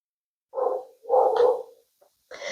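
A dog barks in a few short bursts with a brief pause between them, fairly close and alone with no talk.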